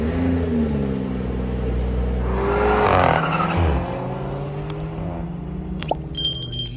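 A 2021 VW Polo Vivo 1.4 drives along a road, its engine a steady low drone with tyre and road noise swelling midway, continuous and close with no talk.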